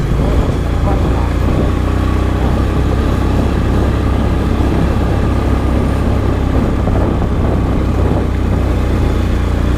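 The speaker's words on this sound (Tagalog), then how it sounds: "Malakas pa rin pala itong motor ko." A steady motorcycle engine runs throughout, a loud continuous low rumble with no pauses.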